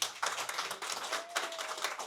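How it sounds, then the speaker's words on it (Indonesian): A small indoor audience claps for a speaker at a talk, irregular hand claps in quick bursts, fairly faint, with a brief tone in the background. "Tepuk tangan dulu buat Pak Hatta."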